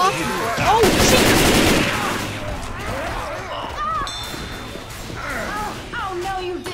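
Rapid gunfire in Left 4 Dead 2, loud bursts of shots in a dense volley at first and then sparser, with voices talking over it and sharp cries mixed in.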